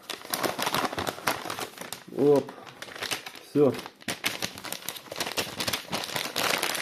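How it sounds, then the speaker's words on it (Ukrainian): Plastic chewing gum wrappers from Turbo gum crinkle and rustle in close, crackly bursts while someone speaks briefly in between. "Пакетики у нас тут."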